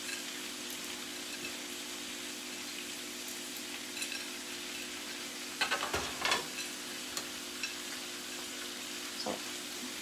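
Cabbage fries in a pan as broken-up leftovers are stirred in, giving a quiet, steady sizzle with a few sharp scraping stirs in the middle and no voices.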